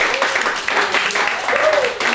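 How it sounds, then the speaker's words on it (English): Applause and clapping from a comedy night audience, a steady, fairly loud wash of hands that lasts about two seconds with some voices mixed in. "Round of applause for these guys"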